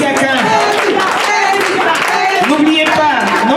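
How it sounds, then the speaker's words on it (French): A crowd applauding at a URCIN political party conference in Côte d'Ivoire for party president Koné Issiaka: dense, continuous clapping with a loud voice calling over it. "Les applaudissements pour l'URSSEF, une républicaine pour une Côte d'Ivoire nouvelle."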